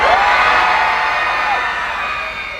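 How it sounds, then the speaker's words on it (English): A live-show crowd screams loudly on cue, one sustained, dense roar of many voices that holds steady and then slowly fades. "When I call action, I want everyone to scream as loud as you can"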